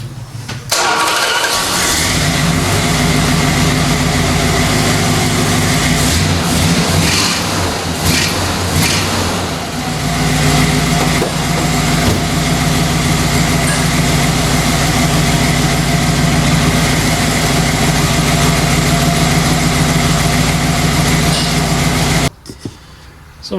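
A rebuilt 318 Mopar V8 in a 4x4 Dodge Tradesman van cranks and catches, then idles loudly and steadily close by for about twenty seconds before shutting off abruptly.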